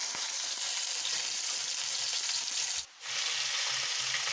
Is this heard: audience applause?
no